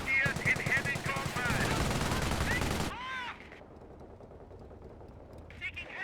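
An MG42 machine gun fires in bursts during a World War II video game battle, loud and dense for about three seconds, then drops away under quieter gunfire and ambient battle noise; a voice speaks over it.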